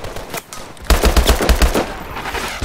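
Rapid bursts of gunfire from Call of Duty Advanced Warfare, during the mission Crash, crackle loudly in close succession, with quieter shots before a dense volley that fades into lingering reverb.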